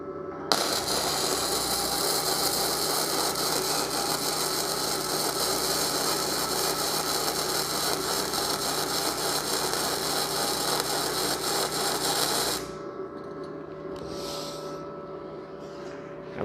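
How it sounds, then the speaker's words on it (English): A Simder MIG-250D MIG welder lays a bead without shielding gas, giving a loud, continuous crackling sizzle for about twelve seconds before cutting off, followed by a low hum and faint clatter. "I will be taking a look at the model 250D MIG welder from Simder"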